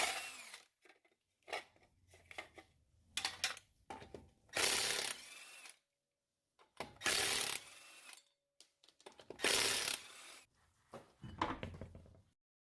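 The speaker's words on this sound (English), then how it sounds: "we can go ahead and start removing the wheels" A ratchet is worked in repeated bursts while removing the wheels from a Chevy Blazer raised on jack stands, with clicking runs separated by short pauses, close and clear.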